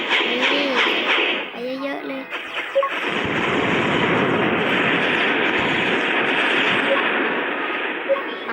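An alien aircraft in a video game produces a loud, sustained roaring rush that takes over partway through, following a stretch of talking with the game noise underneath.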